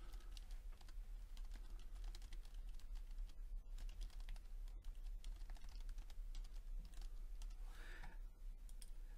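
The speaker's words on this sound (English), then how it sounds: "we'll just type in the name of the file" Steady, continuous typing on a computer keyboard while entering a file name, with dense, rapid key clicks running throughout without pause and no voices.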